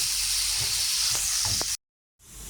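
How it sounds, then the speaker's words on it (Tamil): Chicken sausages fry in a pan with a loud, continuous bright sizzle and soft crackle, cutting out briefly before the sizzle returns. "சோசேஜ் இது வந்து சிக்கன் சோசேஜு ஃப்ரை பண்ண போட்டிருக்கிறேன்."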